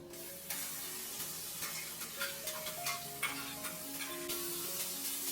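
Spices and an onion-coconut paste sauté in hot oil, a soft continuous sizzle broken by scraping and tapping of a stirring spoon against the pan, close and fairly quiet, with no talking.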